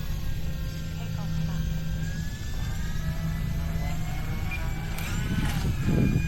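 An E-flite Turbo Timber Evolution V2 radio-controlled float plane takes off into the wind, its electric motor whining steadily and close with a rising tone, alongside a broadband rush that swells near the end.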